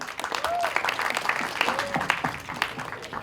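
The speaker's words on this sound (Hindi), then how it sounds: "एक बार जोरदार ताली चाहिए" Crowd applause and cheering at a film teaser launch event fill the space, steady and fairly loud, with a couple of rising whistles cutting through.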